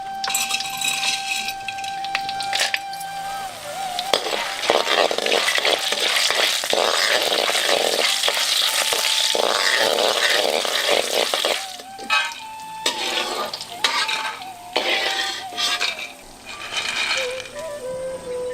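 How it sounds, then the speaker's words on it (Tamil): Dried turkey berries (sundakkai vathal) fry in hot oil for a traditional vathal kuzhambu, a steady close crackling sizzle with scattered clinks of a spoon against the pan, easing into quieter, patchier bubbling near the end. "கொஞ்சம் எண்ணெயில கையளவு சுண்டக்காய் வத்தல சேர்த்து நல்லா பொரிச்சு எடுத்துக்குவோம்"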